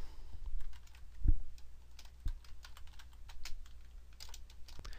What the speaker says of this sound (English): Now once I've finished typing